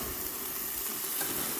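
Burgers and bacon sizzle steadily on a charcoal hibachi grill, a dense, even crackle with a faint flare-up swelling briefly partway through, close and alone with no talking.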